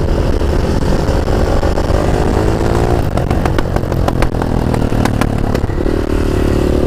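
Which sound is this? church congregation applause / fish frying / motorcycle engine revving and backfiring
motorcycle engine revving and backfiring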